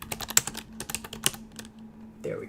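Fingers tap away at a computer keyboard in quick irregular bursts of clicks, close and crisp in a quiet room, the keystrokes pausing briefly before a soft shuffle at the end.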